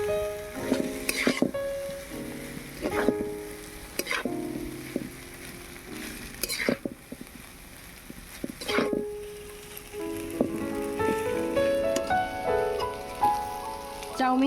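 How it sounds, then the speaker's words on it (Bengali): Chow mein noodles fry in a pan with spices and sauces, a soft crackling sizzle punctuated by repeated scraping stirs and clanks of a utensil against the pan every couple of seconds. "চাউমিনটাকে একটু ভেজে নিয়েছি,"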